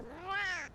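Explorer Feline, a cat character in Monster Hunter Stories 3: Twisted Reflection, gives a single clear, rising-then-falling meow, close and alone with no talking.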